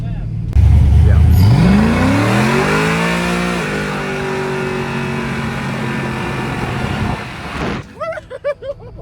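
A Ford F150 truck fitted with a Chevy LS engine revs hard from idle, the pitch climbing and then holding a loud sustained roar for several seconds before cutting off, followed by brief voices.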